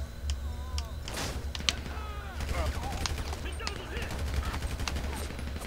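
Gunfire in the GTA Online video game striking the player character: rapid game shots and impacts crackle over a steady low rumble, with someone talking over much of it.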